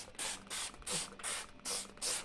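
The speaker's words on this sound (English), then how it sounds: "So just spray the water like that as I'm doing." Six quick bursts from a handheld spray bottle misting water onto fabric before ironing, evenly spaced hissy pumps, close and fairly soft, with no voices.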